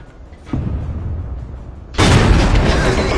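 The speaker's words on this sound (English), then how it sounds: "You can see a good Arty shot there that finishes off with a roll." Artillery shell strike in a tank video game featuring the Leopard 1: a muffled thud, then a loud, close blast with a sustained rumbling roar.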